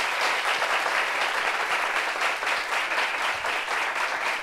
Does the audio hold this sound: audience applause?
yes